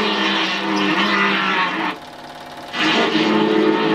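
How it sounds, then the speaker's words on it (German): A Porsche Turbo race car at a 1976 airfield race in Mainz-Finthen roars loudly and steadily, with a brief drop in the engine note during a gear shift before it picks up again. "Ein Porsche Turbo mit Stichflammen beim Schalten. Wunderbarer Klang."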